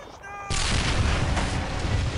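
Loud, dense artillery and gunfire in the Men of War: Assault Squad battle game, erupting abruptly after a quiet start into continuous booming blasts and rattling shots that fill the rest of the moment.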